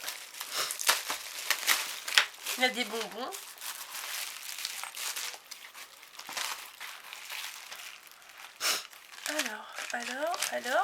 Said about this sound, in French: Alors, bien protégé dans du papier bulle.